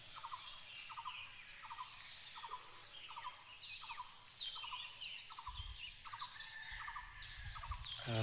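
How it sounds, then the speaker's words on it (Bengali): Various birds call after a heavy storm among coconut palms: rhythmic repeated chirps and whistled notes overlap at moderate distance, with a few louder squawks near the end and a calm, soft background. "এখানে পাখির ডাক ছাড়া আর অন্য কোনো"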